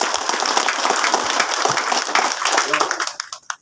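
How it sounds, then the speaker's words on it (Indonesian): A crowd claps at a local political campaign team inauguration, dense and fairly loud, with voices mixed in before the applause thins and fades out near the end. "Tepuk tangan."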